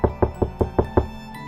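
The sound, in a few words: knock at a porta potty door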